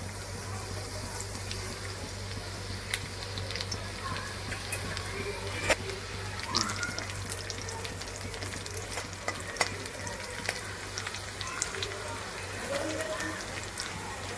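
Ginger and garlic fry in two spoons of oil for a gobi chilli dish, giving a steady, close, even sizzle with scattered small pops and ticks over a low constant hum, running throughout with no clear talk.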